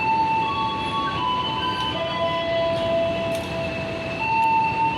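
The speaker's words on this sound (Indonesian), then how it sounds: "Kereta api Parsel" A parcel train arrives at a Javanese railway station, its steady rumble carrying long, level tonal whines from the wheels or horn as it rolls in, with no voices over it.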